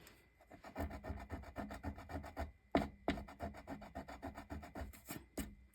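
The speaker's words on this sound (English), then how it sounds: "I don't know if my mono eraser will erase these marks" A Mono eraser rubs back and forth over pencil marks on card stock, close and rhythmic, with quick scratchy strokes in steady bursts and no talk.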